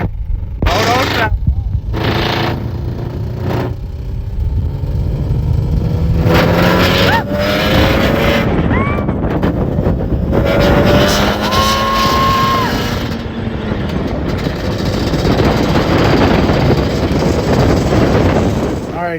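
Yamaha Banshee 350 ATV engine roaring loudly and continuously during a ride, revving up and down with harsh, gritty tone and rough broadband noise throughout.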